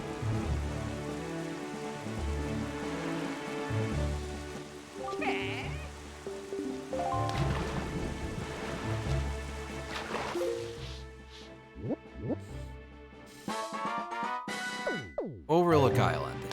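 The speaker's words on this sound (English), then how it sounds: "we got some lightning storm going on here" A rainstorm in The Legend of Zelda: The Wind Waker video game, a steady hiss of rain running under the game's music while a person talks over it.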